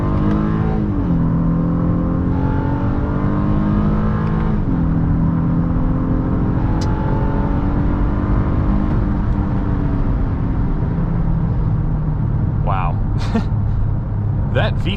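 A 2023 Honda Passport Elite engine accelerates hard through its VTEC crossover from inside the cabin. A loud, steady drone climbs in pitch, with brief drops at each gear change before it rises again.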